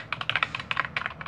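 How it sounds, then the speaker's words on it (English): Rapid clicky keystrokes on an old mechanical keyboard designed for Windows 95, heard up close in quick irregular bursts with no talking. "obsolete keyboard thingy,"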